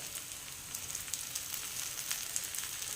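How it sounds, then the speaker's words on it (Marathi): Bajra flour thalipeeth fries in oil on a pan with a steady, soft sizzle and fine crackling pops, continuous and close, with no talk. "तेल सोडायचं जरा जास्त आणि एका बाजूने पूर्ण भाजून घ्यायची"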